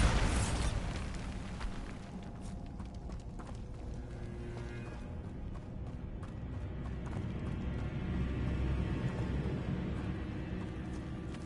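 A Bombarda explosion spell from Hogwarts Legacy goes off with a loud, sharp blast at the start, then a long rumbling, crackling wash of debris and noise that slowly fades.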